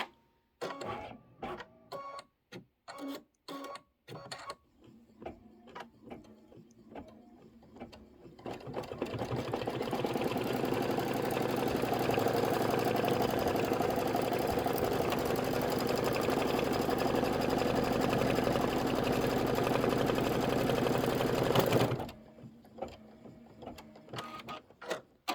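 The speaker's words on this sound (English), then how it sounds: "So this is going to stitch the final seam." A sewing machine stitches the final seam of a Santa cinch sack, starting with a few short stuttering bursts, then running in one loud, steady continuous whir for about twelve seconds before stopping.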